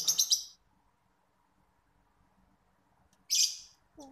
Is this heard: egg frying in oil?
no